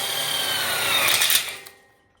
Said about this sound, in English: we're going to go ahead and screw in our connector plate in the center here